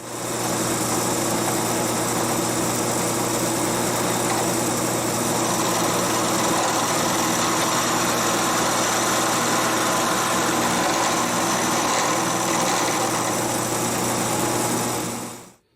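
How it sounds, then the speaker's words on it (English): A milling machine carves a flat spot into a surface grinder fixture, giving a steady, loud mechanical drone with a constant hum that runs unbroken for the whole span and cuts off abruptly at the end. "So now we're going to go to the mill and carve this out."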